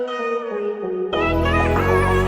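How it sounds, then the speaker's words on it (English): Synthesized R&B melody with sustained harmonic tones that shift into a fuller, denser layer partway through, played alone with a steady loudness and no talking. "So without that transition, it sounds like this."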